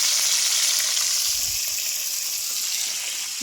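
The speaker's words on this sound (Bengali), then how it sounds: "এই যে মাছ ভাজছে" Fish sizzling and frying in a pan for a midday meal outdoors, a loud continuous hiss with a brief low thump partway through, heard up close and alone.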